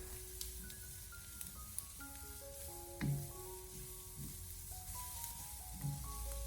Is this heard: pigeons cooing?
no